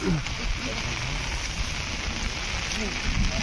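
Steady rain falls close by during a typhoon, a dense even hiss with low rumble throughout, while voices talk over it.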